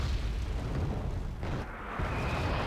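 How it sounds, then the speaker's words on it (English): Mortar rounds trade fire in the wartime strategy game Wargame: AirLand Battle, with heavy booming blasts and rumbling impacts rolling one after another, loud and dense before a brief lull and another dull thump. "See a little bit of a mortar exchange here"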